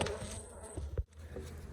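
A steady insect hum of many honeybees at a hive fills the clip, with a brief dull thump near the middle before the droning carries on.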